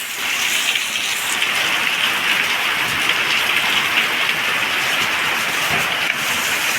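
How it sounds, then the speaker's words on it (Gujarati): Heavy monsoon rain pours down steadily over farm fields, a dense, loud, unbroken hiss of drops close by with no voices. "ભાઈ બહુ વરસાદ આવી ગયો"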